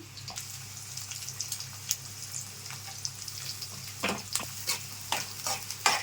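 Chopped onions and green chillies frying in a pan, a low constant sizzle with intermittent scraping stirs that grow busier toward the end, close and moderately quiet, no speech.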